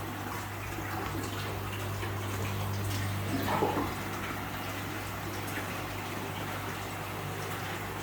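Water pump filling an aquarium tank for angelfish breeding, a soft continuous pump hum with trickling, gurgling water, faint and steady with a brief surge of splashing midway.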